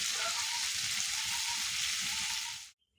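Taki fish fry in a pan with a steady, soft sizzling hiss lasting a few seconds before cutting off abruptly.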